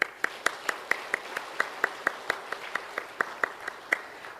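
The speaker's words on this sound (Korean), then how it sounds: "또 모든 교사분들에게 격려의 박수" A church congregation gives summer ministry volunteers an encouraging round of clapping. The strokes are crisp and regularly timed, falling about four per second in a unified beat, with no voices heard.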